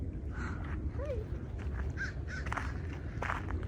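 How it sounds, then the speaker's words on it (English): Crows caw repeatedly in the Bay Area, several harsh calls spread across a few seconds over steady outdoor background noise, clear and moderately close. "We've got crows here in the Bay Area"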